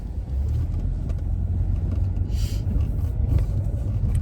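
Steady low engine rumble and road noise from inside a moving car on a morning drive, continuous and fairly loud throughout with no talking.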